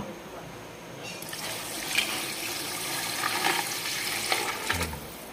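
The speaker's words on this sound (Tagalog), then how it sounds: "Sa gripo lang kukuha ng sabaw mga idol." Water gushes steadily from a tap, a continuous splashing rush starting abruptly, with faint clinks nearby.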